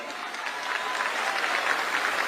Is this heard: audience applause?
yes